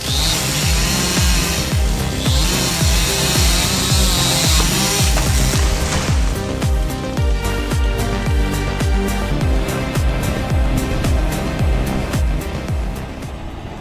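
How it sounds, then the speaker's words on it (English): A loud chainsaw roars continuously, its engine pulsing and revving rhythmically as it cuts through wood, with machinery rattling throughout. "It cuts fast, it cuts clean, and it never forgives mistakes. This is the chainsaw."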